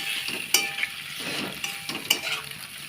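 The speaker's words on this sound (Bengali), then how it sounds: "গ্যাসটা লো ফ্লেমে রেখে আস্তে আস্তে পাস্তাগুলোর সাথে মশলাটা মিক্স করে নিচ্ছি।" Spices being stirred into pasta in a pan over a low gas flame, with a soft steady sizzle and sharp clinks of a utensil scraping the pan near 0.5 and 2.1 seconds, no voices.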